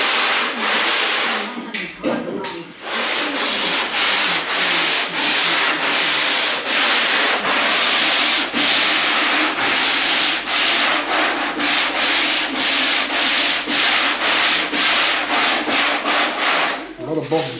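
A sanding block works body filler on a 1967 Camaro restoration, rough rasping strokes repeating in a steady back-and-forth rhythm, loud and close, with a short pause early on and no talking.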